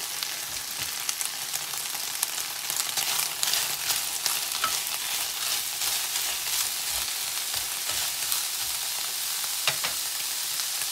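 Goulash meat frying with onion in oil, a close, constant hissing sizzle with scattered soft stirring clicks and pops running without pause.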